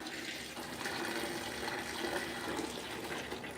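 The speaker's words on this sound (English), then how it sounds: "I'm going to fill this big bucket with a bunch of really hot water" Very hot tap water gushing into a 5-gallon pail, a steady splashing rush heard close and alone.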